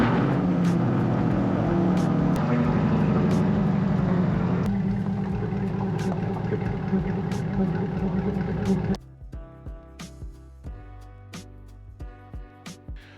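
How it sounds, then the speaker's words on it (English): A C8 Corvette engine idles close by, a steady low rumbling drone that runs evenly for several seconds, then drops away abruptly, leaving quieter scattered knocks and clicks. "we've had the car idling for about 10 minutes"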